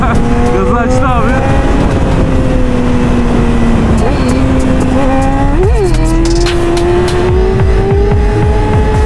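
A Yamaha sport motorcycle accelerates hard while racing another Yamaha R-series bike on the road. The engine note climbs steadily under loud, constant wind rush, recorded up close from a moving rider's position.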